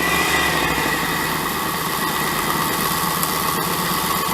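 A 12-volt AliExpress mini belt grinder runs at full speed, giving a steady, loud motor whine with a constant buzzing hum and no pauses, alone without talk.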